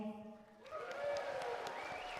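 A banquet audience breaks into applause after a sung anthem, a dense patter of clapping swelling over the fading tones of the music.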